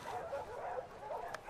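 A dog in the video game The Last of Us Part II gives short yips and barking sounds, a few quick bursts in a row, close and fairly quiet, with no talk over them.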